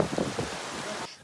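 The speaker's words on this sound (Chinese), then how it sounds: "南投的下晡闪大雨" A heavy afternoon downpour in Nantou, Taiwan, soaks a sports field, giving a dense, steady roar of rain that cuts off abruptly at the end.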